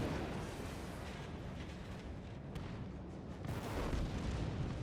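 Secondary guns firing aboard the USS New York battleship in World of Warships: a low, dense rumble of booming shots and bursts, faint and distant, with a heavier swell toward the end.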